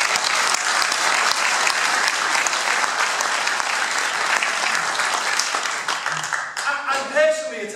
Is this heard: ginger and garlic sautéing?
no